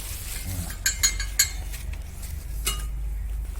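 Powdered sugar being mixed into crushed ghee-soaked baati for churma, with a spoon clinking and scraping against a metal dish in a short burst, then a quieter steady stir.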